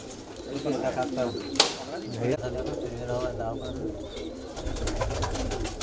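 High flyer kalpare pigeons coo softly in a loft in Patna, a low murmuring under voices talking nearby, with a brief flutter or clap partway through.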